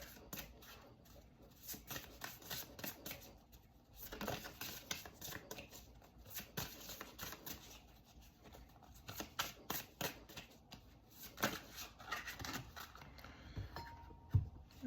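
Tarot cards handled and shuffled at close range, a long run of soft, rapid clicking and rustling pulses rising and falling in uneven bursts, faint overall with no speech.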